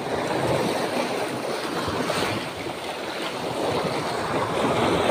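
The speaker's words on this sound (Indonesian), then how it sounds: "Masih ekstrim ombaknya ya kawan." Strong, rough ocean waves wash continuously onto the shore at a fishing spot, a loud, steady broadband roar with wind buffeting the microphone and no talking.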